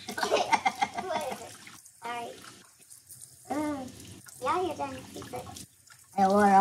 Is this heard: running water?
yes